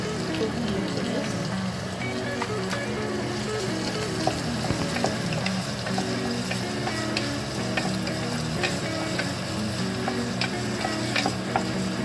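Chopped onion and green chilies fry in a pan with a steady, dense sizzle and occasional stirring clicks. The sound is close and continuous throughout, with no talking.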